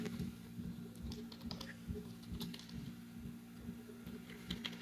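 Someone types C++ code on a computer keyboard in a quiet, steady run of soft key clicks with no talking.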